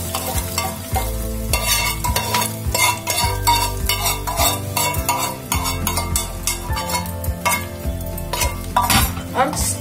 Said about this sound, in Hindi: अब ये पूरा तड़का हम दही पे डाल देंगे